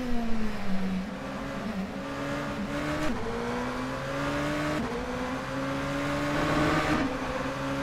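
Mazda RT24-P DPi race car at Sebring in the video game rFactor 2, engine note dropping and climbing as it downshifts through the gears, a continuous loud droning pitch with several steps.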